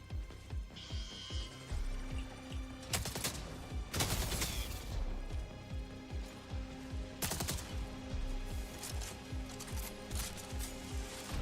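A burst-fire gun shoots in the sci-fi video game Jump Space, with rapid clusters of shots in an irregular rhythm and a few heavier, sharper blasts standing out among the repeated bursts.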